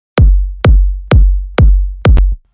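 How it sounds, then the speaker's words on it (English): Five short, tight Hardwell Cobra kick drum hits land at an even pulse, loud and punchy with quick decay and no other sound around them, followed by a brief low tail at the end. "For this track we sampled the Hardwell Cobra kick."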